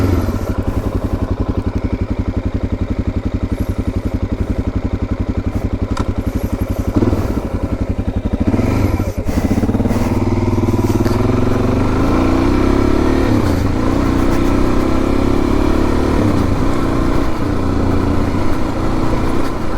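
Suzuki DRZ400 motorcycle ridden over gravel, its steady engine drone running loud and close throughout with rumbling and clattering from the loose surface and a brief shift in tone partway through.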